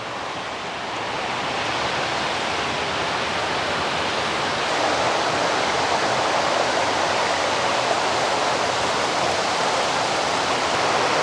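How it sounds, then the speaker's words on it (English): Creek trickling down a mountainside into a larger creek below a dam in a Tennessee state park, a continuous rushing water sound that swells slightly and holds steady, without talk. "There's another creek trickling down the mountainside and feeding this larger creek."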